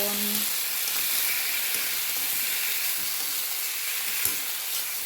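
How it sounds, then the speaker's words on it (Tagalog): Shrimp sautéing with garlic, onion and tomato in a pan, a loud continuous close sizzle and hiss that stays even throughout. "ginisa ko na sa bawang, sibuyas, kamatis,"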